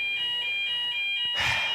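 A fire alarm goes off indoors, a steady high electronic tone with pulsing overtones sounding continuously, with a brief louder burst of noise near the end.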